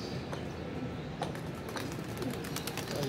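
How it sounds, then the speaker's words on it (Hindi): Pigeons let out of their coop after a few days inside, with soft cooing and light wing flutters over a steady, noisy outdoor background. "ये माशाल्लाह जी कबूतर निकाल रहे हैं।"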